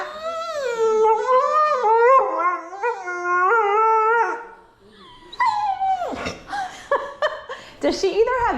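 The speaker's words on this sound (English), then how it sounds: "That was like such a Dobie vocalization." A Doberman-mix dog gives a long, rising and falling howl in close, drawn-out wavering tones, then breaks into shorter yelping whines, with a person reacting nearby.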